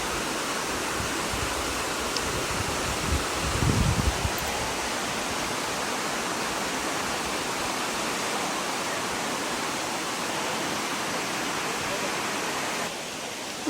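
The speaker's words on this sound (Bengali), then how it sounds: "আর এই যে নিচেই যাচ্ছে জলটা," Water pours steadily down a waterfall near Shillong in Meghalaya, a loud, constant broadband rush filling the whole stretch, close and unbroken.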